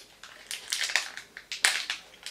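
Crackers crunched in the mouth, close and crisp, a quick series of about eight sharp bites and crackles over a couple of seconds, with no talking.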